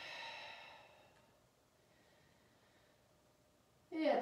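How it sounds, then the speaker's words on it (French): During a yoga session, a long, soft breath out is heard up close, then quiet, and a sharper, louder breath comes right at the end. "Belle respiration ici."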